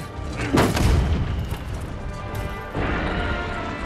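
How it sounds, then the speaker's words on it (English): A cannon fires in the video game Monster Hunter World, a loud, deep boom with a crashing impact, followed by a rumbling tail and a second heavy thud. "Fire cannon."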